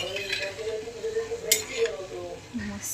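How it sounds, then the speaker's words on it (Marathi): Onion bhaji batter fries in hot oil, a soft crackling sizzle with a faint clink of utensils against the pan and a brief burst of spattering near the middle, heard close and fairly quiet. "आणि अशा मस्तपैकी तळायचे तेलामध्ये."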